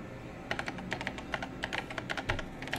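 Keyboard typing in Paper Mario: The Thousand-Year Door, a rapid run of short, bright key clacks in irregular bursts over a steady low game-music bed, close and fairly loud, with no voices.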